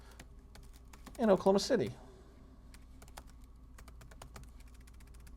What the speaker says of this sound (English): Oops, if I could type.